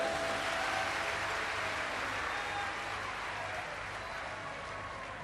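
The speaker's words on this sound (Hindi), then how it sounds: "एक बार जोरदार ताली बजाओ।" Loud, sustained clapping from a crowd at a live Shiv Mahapuran religious discourse gathering in Durg, a dense continuous roar of hands that eases slightly toward the end, with no talk over it.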